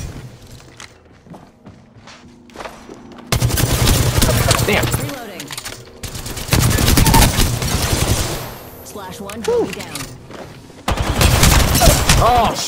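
Bursts of gunfire from the Apex Legends video game, loud rapid volleys in three long stretches separated by quieter moments with faint clicks, and some talk mixed underneath.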